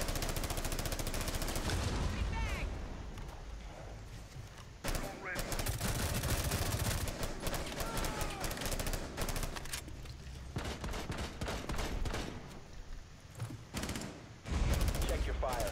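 Sustained automatic gunfire during an indoor hostage round of Rainbow Six Siege at Hereford Base, with dense rattling bursts, short pauses and heavy impacts, loud and close throughout.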